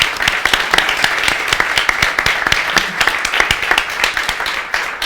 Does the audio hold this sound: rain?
no